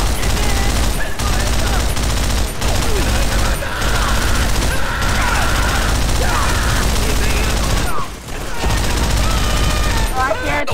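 A mounted machine gun firing in the Call of Duty: World at War video game, with loud sustained bursts over battle noise and shouting voices, briefly pausing near the end.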